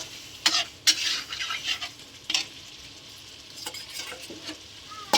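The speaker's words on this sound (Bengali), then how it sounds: "ভালো করে নাড়িয়ে নিচ্ছি। আর একটু কষে নেবো মশলার সঙ্গে।" Spices stirred in melted oil for mutton biryani: a low steady sizzle under intermittent sharp scrapes and clinks of a spoon against the pot, close and fairly loud.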